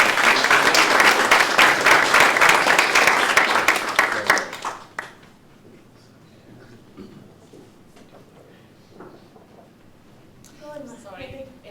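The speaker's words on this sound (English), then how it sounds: "Round of applause, please" Round of applause at a careers fair, a full burst of clapping for about four seconds that cuts off abruptly, followed by quiet room noise and faint speech.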